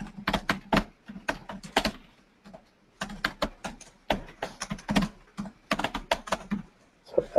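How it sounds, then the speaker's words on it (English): Brisk typing on a computer keyboard at a desk: bursts of rapid, crisp key clicks close by, with brief pauses between runs and no talking. "I'll just type it."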